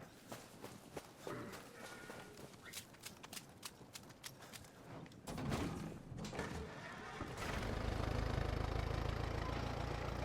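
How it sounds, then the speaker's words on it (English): In a battle-royale video game, rapid footsteps patter at first, then a tractor engine starts up and settles into a loud, steady mid-pitched running drone that continues to the end, with no one talking. "Tractor time."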